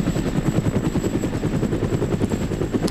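A helicopter flies in the military video game ArmA, a loud, close, rapid rhythmic rotor chop pulsing steadily throughout without any talk.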